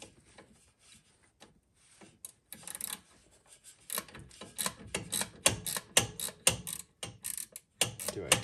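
A wrench works a pulley on a Kubota's air conditioning belt, giving faint scattered clicks at first, then denser, louder rapid ratcheting taps and scrapes close up.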